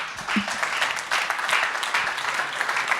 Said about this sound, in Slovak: Takže veľký potlesk k najlepšej accounke, akú Logisbox má.